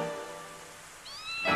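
A white cat meows twice, a drawn-out plaintive cry followed by a short rising mew, close and fairly quiet, in an anime.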